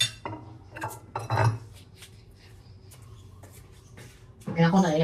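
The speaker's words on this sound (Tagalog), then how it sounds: "Kailan kong haluin para mag-alsa siya." A spoon clinks and scrapes against a bowl while a mixture is stirred so it will rise, in irregular bursts of metallic tapping with someone talking throughout.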